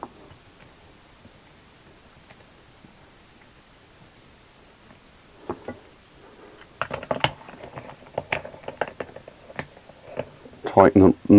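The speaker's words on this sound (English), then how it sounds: "tighten the nut down to pull the shaft into the flange" A nut is threaded and tightened onto a differential shaft flange during a diff rebuild, producing quiet, irregular metallic clicks and ticks that grow busier toward the end, with someone talking.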